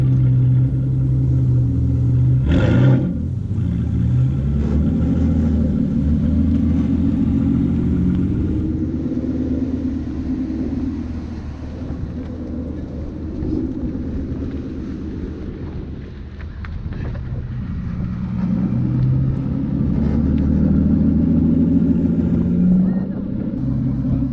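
A naturally aspirated 5.9-litre V12 car engine idles with a deep, steady rumble at a rally gathering, swelling now and then under wind buffeting on the microphone, with people talking nearby.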